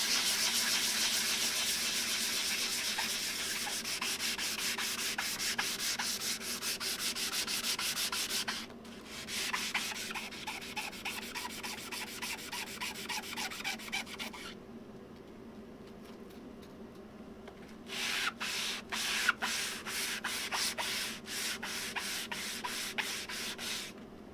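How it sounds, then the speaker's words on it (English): Sandpaper rubbing across wood during wood engraving work, a fast repeated scratchy back-and-forth stroking that stops twice for brief pauses before resuming, fairly close. "They're just not, it's just not sanding the wood."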